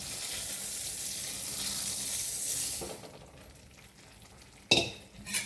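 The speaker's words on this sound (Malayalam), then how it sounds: "വെള്ളം തിളച്ച് വന്നിട്ടുണ്ട്. ഇനി നമുക്ക് എടുത്തു വെച്ച സേമിയ ഇതിലേക്ക് ചേർത്ത് കൊടുക്കാം." Water boils in a pot as vermicelli is tipped in, a steady bubbling hiss that drops away around the addition, followed by a sharp clatter and stirring sounds.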